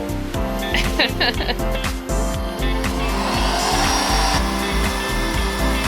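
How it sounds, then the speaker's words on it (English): Diamond core drill boring three holes through 500 mm of concrete for a pool build, a loud steady grinding drone with rhythmic low thumps throughout, close by, with voices talking over it. "Holes being drilled through 500mm of concrete."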